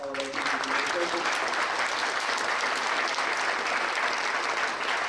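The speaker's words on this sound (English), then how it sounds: "Give them a round of applause." Sustained audience applause at a fifth-grade school band concert honoring the music teachers, a dense, even wash of clapping from a large crowd that holds steady for the full stretch, with a brief voice audible at the very start.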